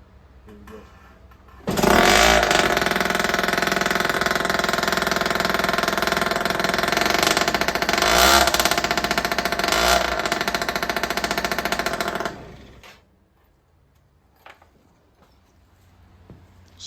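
A Yamaha Jog moped with a ported 50cc engine and ported exhaust fires up and runs loudly for about ten seconds, revving with a steady buzzing two-stroke drone and a few sharp throttle blips, then cuts off.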